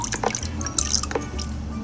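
Borax solution poured into a slime mixture gives a close, short run of liquid drips and splashes, several small drops in a quick, uneven rhythm, alone without talk.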